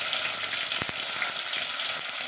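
Chopped tomatoes added to a hot pan for veg biryani, a dense continuous sizzle with a brief thump of food landing near the start, no talking.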